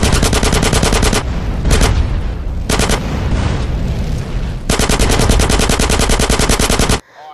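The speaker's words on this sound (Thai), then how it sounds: "ซีเจและคนอื่นๆในทีมสามารถเอาชีวิตรอดจากการดวลปืน" Sustained automatic gunfire in a GTA San Andreas Definitive Edition gang gunfight, loud rapid bursts with brief gaps between volleys, then an abrupt stop near the end.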